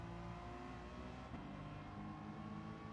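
Deep, throaty engine revving from a racing car in the video game Gran Turismo 7, a sustained growl that rises and falls without pause, with no voices.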